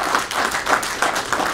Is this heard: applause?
yes